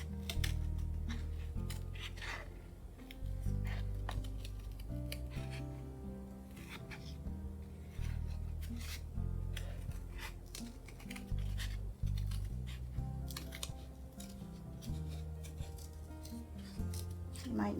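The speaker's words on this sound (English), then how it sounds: "You might need some help cutting this out. Scissors are going to have to be kind of sharp." Scissors snip through paper to cut out a black cat shape for a Halloween craft, giving repeated close crisp cuts and rubbing paper sounds in an irregular rhythm over a low steady background hum.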